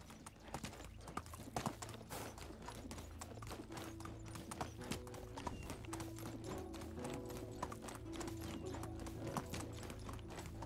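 Horse hooves clip-clop steadily while a rider travels in Medieval Dynasty, a quiet, regular rhythm of hoofbeats with soft snorts and faint game ambience beneath.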